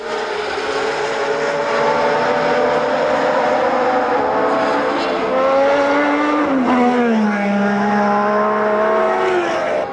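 Ferrari Formula 1 race cars from the 1979 season scream past with high, sustained engine whine, pitch shifting as they pass and drop through gears; loud and continuous with no talking.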